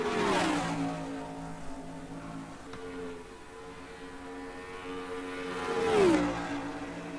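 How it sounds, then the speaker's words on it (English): NASCAR race trucks in the NASCAR Racing 2003 game at Texas roar past in a line, engines rising to a loud pass-by at the start and again near the end with a Doppler drop, fading between. "You see the 3 trucks running in a line as they come through the quad oval into turn number 1"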